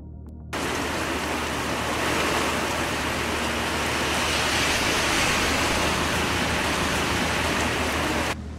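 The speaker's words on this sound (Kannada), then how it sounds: "ಮಳೆ ಎಲ್ಲೆಡೆ ಅಬ್ಬರಿಸ್ತಾ ಇದೆ" Heavy monsoon rain in Karnataka pours down in a dense, constant roar after a brief quiet start, loud and unbroken like a downpour drumming on every surface.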